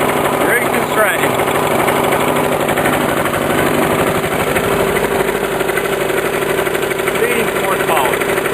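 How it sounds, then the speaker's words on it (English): Lawn mower engine fitted with a custom exhaust muffler built from old scooter parts, idling steadily in a continuous, loud buzzing drone with people talking faintly in the background. "With the custom exhaust."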